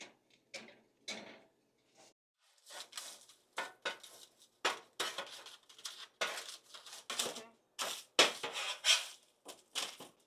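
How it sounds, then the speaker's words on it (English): Tray of asada fries pulled out and flipped, with irregular metallic clatters, scrapes and clinks coming in short close bursts separated by brief pauses. "We're gonna take out the fries and we're gonna flip them."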